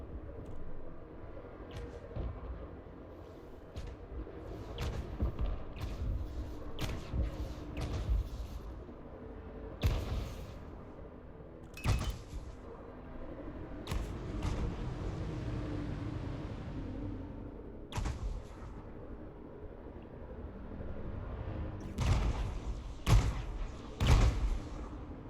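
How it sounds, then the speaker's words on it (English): Space mines exploding one at a time in Elite Dangerous, a string of separate heavy thuds and booms spread across the stretch, some near and loud, others duller, over a low rumbling background. "They're all exploding one at a time."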